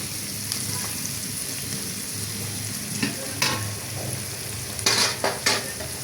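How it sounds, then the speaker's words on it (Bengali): Fried rice with salt is stirred in a pan over a steady sizzle, with several sharp scraping and clattering strokes of the spatula toward the end; no one speaks. "লবণ দিয়ে একটু নাড়াচাড়া করলাম।"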